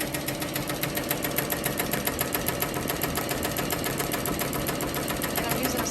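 A Ricoma MT 1501 embroidery machine sews a satin stitch on a dad hat with a fast, steady, even chatter of needle strokes that holds a constant rhythm throughout.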